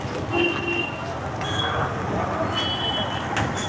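Busy vehicle traffic near a railway station in Ghaziabad, a continuous rumbling din of engines with intermittent horn-like tones and beeps, loud and close throughout.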